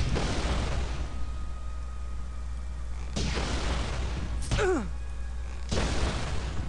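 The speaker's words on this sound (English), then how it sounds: "fire magic time" Fire magic spells cast in the video game Silver, several sharp whooshing bursts spaced a second or two apart, one with a descending whine, over a low steady game hum.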